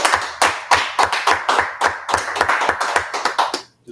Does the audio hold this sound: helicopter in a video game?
no